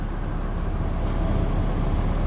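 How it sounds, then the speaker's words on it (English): A constant mechanical drone from a truck's air compressor running, steady and fairly loud throughout, without distinct pulses or speech. "That's all that is, the air compressor."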